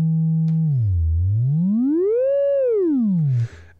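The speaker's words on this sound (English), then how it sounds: "Here is a sine wave." A Therevox ET-4.2 synthesizer plays a pure sine wave that holds, dips lower, then glides smoothly up and back down in pitch before cutting off, heard alone and clear.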